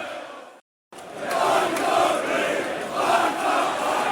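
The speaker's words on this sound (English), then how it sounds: "That's got the crowd to life." A football crowd at a Millwall home match against Norwich City roars and chants in a sustained wall of sound after a brief cut, loud and continuous with no clear talk over it.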